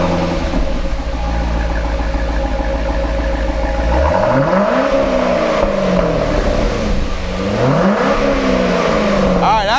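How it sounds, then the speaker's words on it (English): A C6 Corvette fitted with a Corsa X-pipe and Corsa Sport axle-back exhaust cranks and fires up, settling into a loud, deep idle before two rising revs blip and fall back. "There is nothing, and I mean nothing, more exciting than the first startup after an exhaust mod."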